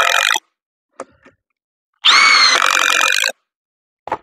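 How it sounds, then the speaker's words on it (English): A compact impact wrench drives 3-inch fasteners in loud, high-pitched whirring bursts. A short burst and a few brief taps lead into one sustained rattling run of about a second, then a last quick burst. "This one just so happens to also be an impact wrench. So let's see how it does with some 3-inch fasteners."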